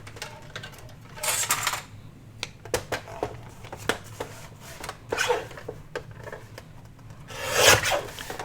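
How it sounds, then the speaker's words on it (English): Paper bag being trimmed for a craft folio, heard as a series of scraping, rasping cuts and rustles in short bursts with quiet pauses between, close and fairly soft. "we need to trim a little bit more of that off"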